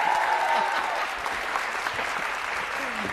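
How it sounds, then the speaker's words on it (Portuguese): Studio audience applause on a Brazilian talk show, a dense, steady roar of many hands clapping at close range for a few seconds, with no voices standing out. "uma salva de palmas pro Amaral"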